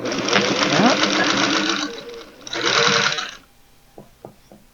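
Sewing machine stitching slowly through thick layers of recycled towel for a potholder, two close, strained mechanical bursts with a pause between, followed by a few soft clicks.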